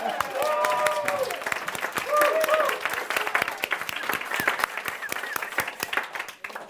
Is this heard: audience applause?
yes